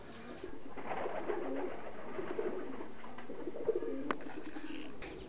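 Ta Lai pigeons on a pigeon farm coo steadily at close range, with soft overlapping calls and a low murmur of the flock behind them.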